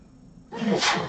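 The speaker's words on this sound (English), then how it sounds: "I have to sneeze." A single close, loud sneeze: a brief quiet intake, then a sharp explosive burst that fades quickly.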